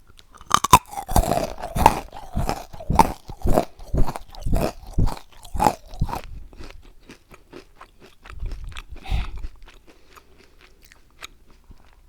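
Crunchy honeycomb candy is bitten and chewed close to the microphone, giving a dense run of sharp, crackling crunches that thin out into softer chewing and a few scattered bites.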